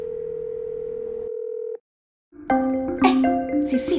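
Phone call ringing tone: a steady electronic tone holds, stops, and after a short silence a brighter melodic ringtone chimes in, loud and close.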